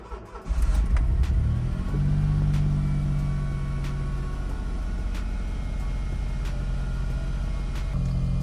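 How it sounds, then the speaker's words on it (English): A Smart car engine cranks and catches, then settles into a steady idle hum that runs on without pause, close and fairly loud, with no talking; the car has a steering angle sensor fault. "I will start the car."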